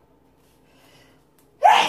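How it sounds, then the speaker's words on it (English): A single sharp sneeze bursts out after a near-silent stretch, loud and close. "Why do I always sneeze when I cook?"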